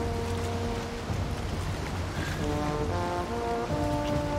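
A boat sails the open sea in Valheim, its hull and rigging carried on a constant wash of waves and wind, with low droning tones running steadily underneath and no voices.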